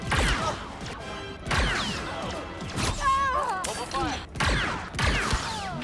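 Repeated blaster gunfire from the Star Wars Outlaws video game, loud bursts in quick succession with whooshing and impact effects running throughout.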